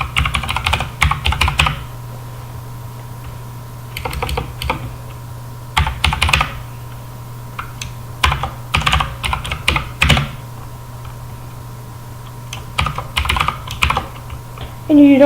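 Bursts of clicky typing on a computer keyboard, several short runs of keystrokes separated by pauses, close and clear over a faint steady hum.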